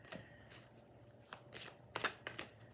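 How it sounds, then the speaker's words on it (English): Tarot cards are shuffled quietly in a few quick riffling bursts, soft papery flicks that come unevenly over a low background hum. "the shuffling's been a little bit chaotic, like messy"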